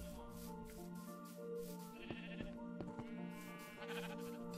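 Several sheep bleat in a row in the game Minecraft over a steady background hum, their calls wavering and overlapping at moderate distance.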